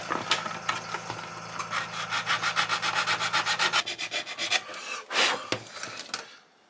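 A model kit part for a U.S.S. Reliant starship is sanded in quick rhythmic back-and-forth strokes, close and fairly loud, before a pause and a couple of final rubs.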